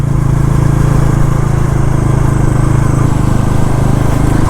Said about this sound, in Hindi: इसका अंडर बैली एग्जॉस्ट कितना सेक्सी साउंड करता है यार